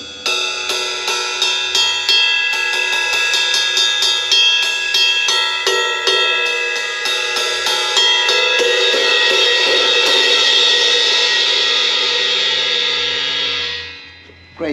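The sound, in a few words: ride cymbal played on a drum kit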